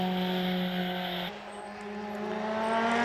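A much-modified turbocharged Vauxhall VX220, an ex-rallycross car, screams up the Prescott hill climb with a loud, high-revving engine note that drops at a gear change, then climbs again as the car pulls away.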